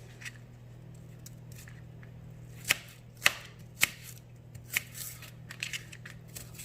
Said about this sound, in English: we just gonna chop this onion up real quick